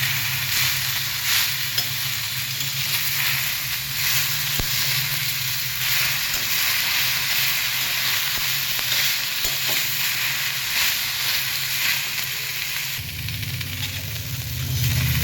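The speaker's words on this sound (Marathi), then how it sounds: "अशी श्रावण घेवड्याची शेंगाची चांगली सरसरीत अशी भाजून घ्यायचं डाळपर्यंत" Shravan ghevda bean pods dry-roast in a pan with a steady, dense sizzling hiss and occasional stirring scrapes. The sound is continuous and close for the full length, with a slight shift in tone near the end and no voices.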